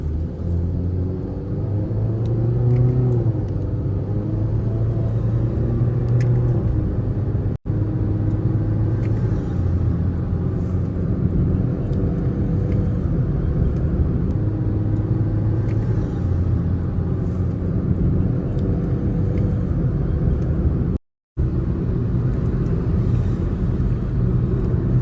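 A 2024 third-generation Honda Amaze in sports mode accelerates from 0 to 30 with manual shifting, giving a steady loud cabin engine rumble whose low tone rises and falls through the gears.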